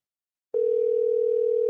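Steady telephone tone on an outgoing call back, one unbroken electronic hum starting abruptly after a brief silence and holding level and fairly loud to the end, with no talk over it.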